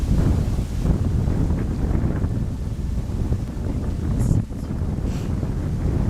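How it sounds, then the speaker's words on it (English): Heavy wind roars and buffets the microphone in a constant rumble, surging in gusts, with no voices. "The wind did pick up and gust a little bit heavier"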